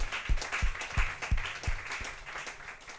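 A church congregation claps together for the Lord, a string of loud, evenly spaced hand claps in a steady rhythm that fade near the end, with a soft hum of the room behind.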